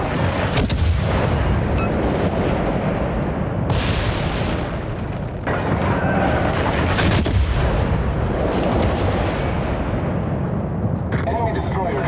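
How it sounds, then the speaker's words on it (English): Naval guns fire at an enemy warship in a video game, a loud, continuous barrage of booming blasts and rumbling explosions with a brief lull midway, with voice callouts mixed in. "Concentrate fire on the enemy warship."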